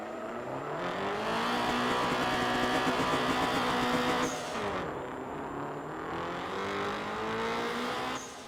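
Car driven fast in the street racing game Night Runners, engine roaring at high revs with rising gear-change pitch sweeps, loud and continuous throughout.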